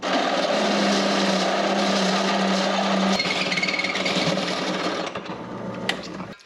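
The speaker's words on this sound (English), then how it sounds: "I just want to show you using the drill press like I did right here" A drill press bores a bolt hole through metal in a street stock race car build, giving a loud, steady whine and grind for about three seconds before tapering into lighter scraping and clicks.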